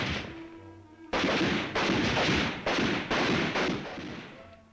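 Rifles fire on an army rifle range, five sharp loud reports spaced about half a second apart, each with a short decaying echo, on an old training film soundtrack.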